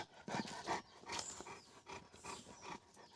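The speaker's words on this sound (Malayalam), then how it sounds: "ഇതാണ് ഗൈസ് നായി. ലാബാണ്, രണ്ടെണ്ണം." A Labrador dog makes soft, close snuffling and panting sounds in short irregular bursts, quiet overall and without speech.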